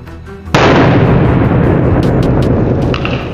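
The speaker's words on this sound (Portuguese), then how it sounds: "Eu nunca vi um estralo dessa altura." A homemade bottle bomb detonates inside a swimming pool: one sudden, very loud blast, followed by a sustained roaring rush of spraying water that stays loud to the end.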